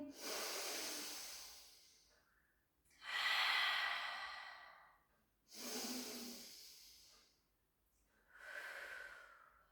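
Four slow, loud breaths during a rehab pilates exercise, alternating long inhales and exhales with short quiet gaps, airy and close to the listener.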